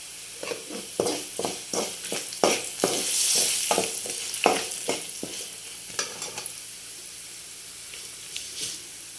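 Curry leaves and turmeric frying in oil for a bilimbi pickle, a sizzle with repeated sharp scrapes of a spoon stirring the pan, close and rhythmic, easing off toward the end.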